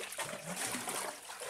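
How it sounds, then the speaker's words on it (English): Water sloshing and splashing as a bucket bails it out of a flooding well during cleaning, a steady busy wet churn of pouring and splattering with no pause. "Carl and Winston quickly removes water from the well with the bucket"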